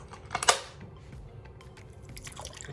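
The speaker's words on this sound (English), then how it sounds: "Let's go ahead and add this water." A cup of water is poured into pancake batter mix in a home kitchen, a brief splashy pour near the start followed by quieter drips and light clatter of utensils, with no talking.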